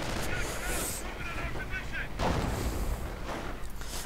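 Dense, continuous battle noise from a World War II strategy game skirmish with Grenadiers and a BAR, rumbling booms and crackling gunfire layered throughout, with a louder burst near the middle.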